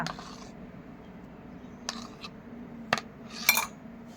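A spoon clinks and scrapes against a bowl while papaya juice is mixed into a facial pack, a few sharp taps standing out over a quiet room background.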